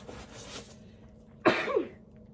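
A single sneeze bursts out abruptly after a few moments of quiet indoor room tone, a sharp explosive puff trailing into a brief breathy tail.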